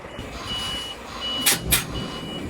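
A hydraulic-drive truck with a single driven rear axle reversing, its warning beeper sounding in short bursts over a steady engine hum, with two louder broadband bursts near the end.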